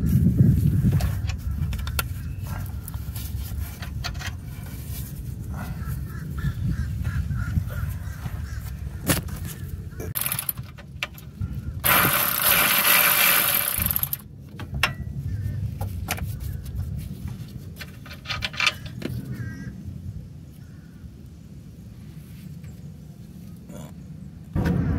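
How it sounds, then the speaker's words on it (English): An electric ratchet whirs in short bursts as it backs exhaust bolts out on a G35 coupe in a tight space, with clicks and clanks around it and one longer, louder run midway. "it helps to have one of these little electric ratchets just for the de-threading"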